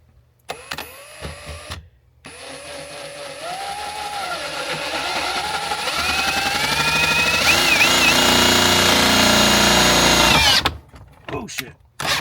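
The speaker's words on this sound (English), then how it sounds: "So I'm just going to drill a hole" A power drill bores a hole during a DIY smart screen build, first in a short burst and then in a long, loud, steady whine that slowly rises and lasts about eight seconds, with brief talk before and after.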